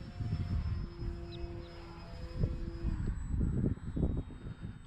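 FMS Ranger 1220mm RC airplane flying at full throttle, its electric motor a thin steady whine that shifts pitch as it passes, heard faintly over outdoor wind noise.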